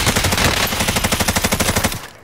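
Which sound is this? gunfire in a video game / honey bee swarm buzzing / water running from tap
gunfire in a video game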